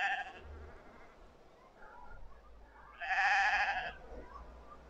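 Sheep in fields below a hillside graveyard bleat twice, a shorter call then a louder drawn-out one, moderately distant over faint outdoor ambience, with no talking.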